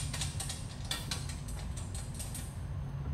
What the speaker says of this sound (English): And then just slide this nut on there